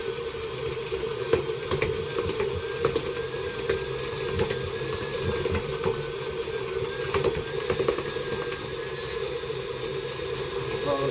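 An old KitchenAid stand mixer runs on high, beating yeast roll dough with a steady mid-pitched motor hum and rhythmic knocking from the bowl.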